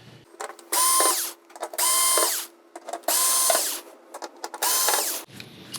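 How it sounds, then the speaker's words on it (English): A screw gun backing four screws out of the main board of an LG 55UN6950ZUA TV whines in four loud, even bursts, with small clicks and handling noises between them. "grab the screw gun, pop these 4 screws out"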